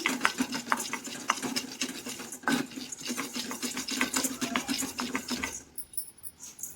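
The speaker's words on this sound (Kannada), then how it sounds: "ಕಡಲೆಪಪ್ಪು ನಾನು ಜಾಸ್ತಿ ಹುರಿಬಾರ್ದು, ಸ್ವಲ್ಪ ಹಾಗೆ ಬಿಸಿ ಆದರೆ ಸಾಕು" Dry roasting chana dal in a pan, with the dal stirred steadily. Rapid scraping, rattling strokes repeat close by for about six seconds and then fade to near silence. No one speaks.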